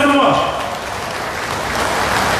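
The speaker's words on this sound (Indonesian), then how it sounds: "Satu tepukan untuk anda semua." An audience at a youth rally applauds, a dense even wash of clapping heard at a distance, with a voice speaking over the start.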